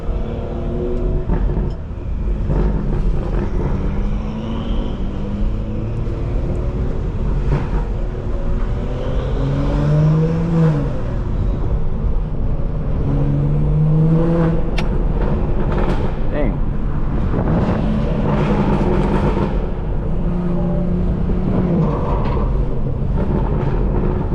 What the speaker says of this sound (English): cars are loud.